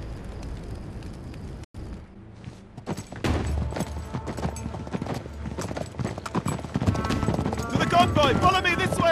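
Horses gallop in an Uncharted 3 cutscene, their hooves drumming loudly and densely after a brief quiet pause, with rumbling action noise mixed in and voices speaking over it.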